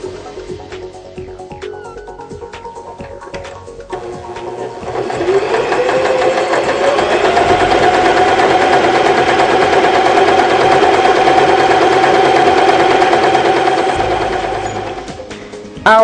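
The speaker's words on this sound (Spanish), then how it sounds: "Vamos a iniciar con la puntada de refuerzo correspondiente a la letra A." A Janome 2012 domestic sewing machine runs a reinforcement stitch, starting with a few light clicks before settling into a loud, steady whir of rapid needle strokes for about ten seconds, then slowing to a stop.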